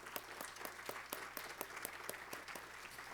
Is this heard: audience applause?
yes